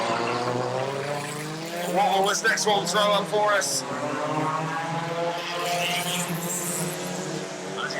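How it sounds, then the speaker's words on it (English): Stock car engines from production rods at a race meeting in glorious conditions roar and rise in pitch as the green flag waves, steady and strong under a commentator talking over the racket. "Let's hear the roar of the engines with the green flag waving."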